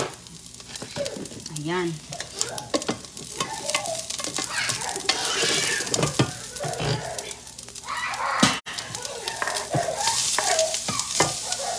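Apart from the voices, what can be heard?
sautéing onion in a pan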